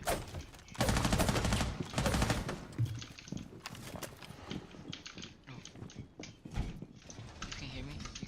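Rapid video game gunfire, loud repeated bursts up close at the start, then lighter clattering shots continuing under a talking voice.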